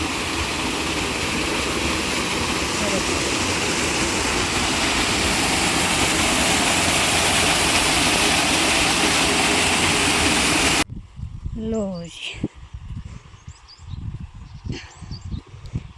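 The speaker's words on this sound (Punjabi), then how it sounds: "ਇਹ ਤੁਹਾਨੂੰ ਹਲਕੀ ਹਲਕੀ ਆਵਾਜ਼ ਆ ਵੀ ਰਹੀ ਹੋਗੀ ਝਰਨੇ ਦੀ" Waterfall near Thana dam in the Kullu hills: a loud, steady rush of falling water fills the first part, then cuts to a quieter outdoor scene with scattered bird calls and rustling.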